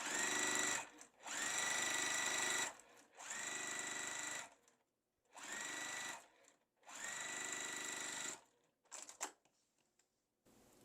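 A home sewing machine stitches quilt block pieces in five loud, close, sustained runs of rapid whirring, with short pauses between bursts and a few brief stop-start stitches at the end.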